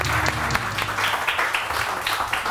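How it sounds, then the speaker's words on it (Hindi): A studio audience on a SAMAA morning show bursts into brisk, close applause to welcome a guest. The clapping is loud and steady for a short stretch. "तो सबसे पहले तो वेलकम करेंगे जोरदार तालियों में बिल्किस आपा को"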